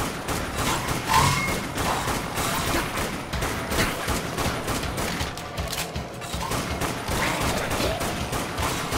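Rifle fire from a zombie shooter game rattles in rapid, sustained bursts, loud and dense, with dull booms mixed into the continuous barrage.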